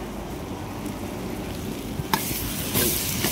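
Onion tempering for dosa masala fries in a pan with a soft, steady sizzle and hiss. A couple of sharp utensil clinks and a brief louder crackle come near the end.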